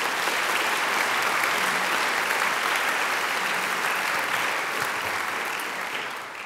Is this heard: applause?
yes